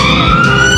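Police car siren wailing steadily and loud at Piccadilly Circus in London, a continuous tone over busy city traffic noise.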